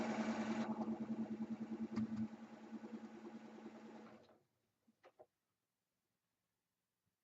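A sewing machine chain pieces a quilt block with a steady rhythmic mechanical whir close by, then stops about halfway, leaving a couple of faint clicks and near silence.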